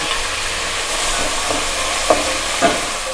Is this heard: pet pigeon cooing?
no